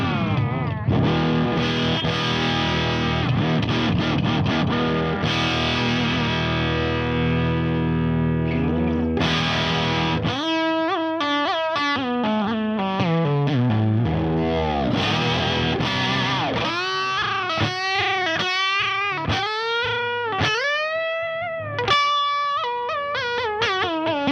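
Distorted Ibanez Jem JR electric guitar with a Floyd Rose-type whammy bar plays sustained chords, then choppy notes that swoop and dive in pitch as the bar is pushed and released, loud and close.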